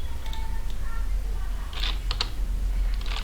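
Keys clatter on a computer keyboard as CSS code is typed, a few short bursts of clicks over a steady low hum, fairly close, with brief pauses between strokes.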